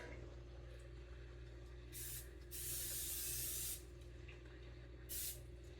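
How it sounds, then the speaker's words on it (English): Three bursts of cooking spray hissing onto baking pans, a short one, a longer steady one, then another short puff, over a low background hum. "we'll give each a light coating with the spray"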